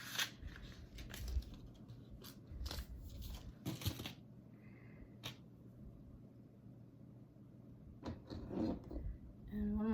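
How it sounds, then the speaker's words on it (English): Several quick snips of scissors clipping the tips of seeds, close and crisp, come in small clusters separated by quiet pauses. "I'm gonna take some scissors and clip just the very end, like just the tiniest little bit"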